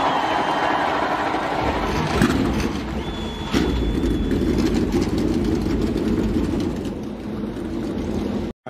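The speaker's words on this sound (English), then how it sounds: "Drivers, start your engines!" NASCAR race car engines at the Food City dirt race start up and settle into a steady low rumbling idle, loud and continuous, with a sharp rise in the roar partway through and a brief cut at the end.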